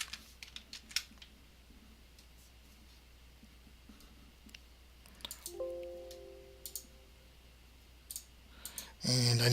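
Light, rapid clicking of a computer keyboard as a phrase is typed, scattered sharp taps over a low steady hum, with a brief tonal chirp midway and a louder rustle at the end.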